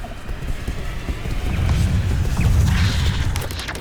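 A fiery whoosh builds into a low, rumbling roar as an Incendio fire spell is cast in Hogwarts Legacy, loud and close with crackling bursts toward the end, no talking.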